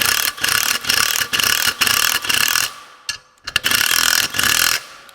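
A valve spring compressor tool being tightened on an LS cylinder head, giving loud, close, rhythmic bursts of ratcheting and grinding with short gaps and a brief pause partway through, no talk.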